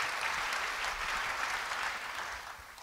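A church congregation gives a steady round of applause during a sermon, a dense continuous clapping that fades slightly toward the end.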